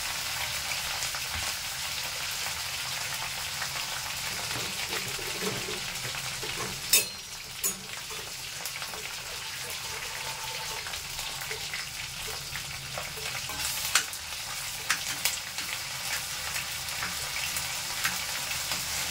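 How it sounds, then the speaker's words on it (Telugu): Ginger garlic paste fries in hot oil for a bottle gourd curry, a steady broadband sizzle throughout with a few sharp scrapes and clinks from stirring around the middle and near the end, close and without any talk. "ఈ రెండు కొంచెంసేపు వేయించిన తర్వాత అల్లం వెల్లుల్లి పేస్ట్ వేసి కొంచెం కలపండి"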